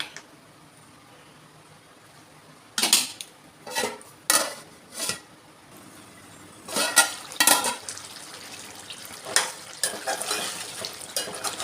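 Chicken curry gravy being stirred in a pot with water added, a spoon scraping and clanking against the metal several times over a low background sizzle, no voices.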